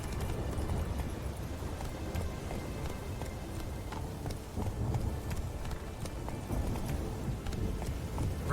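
Roach, a horse in The Witcher 3, galloping with steady clip-clop hoofbeats over a dense, continuous game soundscape, fairly loud and close throughout.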